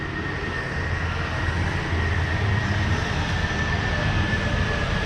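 A New Mexico Rail Runner train rumbles steadily in the distance near a depot, a constant broad engine drone with a faint sustained whine over it.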